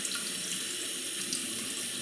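Water runs steadily from a tap during honing on an Imperial La Roccia Standard finishing stone; a continuous, even hiss of flowing water with no breaks.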